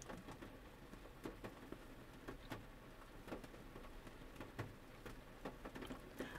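Steady rain falling, a dense hiss of drops with scattered sharper splats close by, continuous and fairly faint throughout with no voices.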